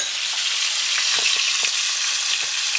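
Trout searing in a hot pan, a loud dense steady sizzle with faint scattered pops and crackles throughout, no one speaking.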